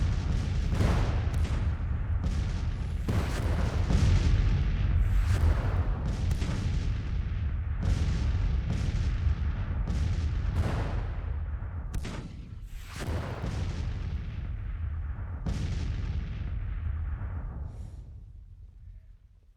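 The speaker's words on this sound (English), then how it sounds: "Sounds of the guns is deafening." Civil War artillery booms in Grand Tactician as cannons fire one after another in a rolling barrage, heavy deep blasts with long rumbling tails overlapping loudly, then easing off toward the end.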